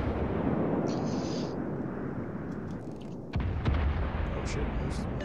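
Warship guns fire in World of Warships with heavy booms and rumbling blasts under a constant battle roar, including a sharp loud hit about two-thirds through, while a voice talks over it.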